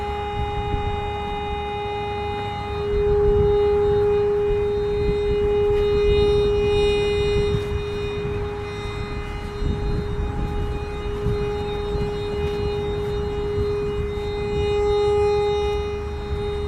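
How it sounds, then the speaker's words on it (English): A handheld metal detector sweeping over a buried object a foot deep beneath a pile of dirt gives off a steady electronic tone that holds throughout and swells slightly in loudness, with outdoor background noise underneath. "I turn the volume up on the machine so you can hear it, and then I'll walk directly over the object."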